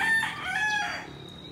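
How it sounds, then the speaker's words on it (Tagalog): A rooster crows once in a backyard in San Manuel, Tarlac, a loud, close, harmonic call with a rising then drawn-out falling tone lasting about a second before trailing off. "May mga manok."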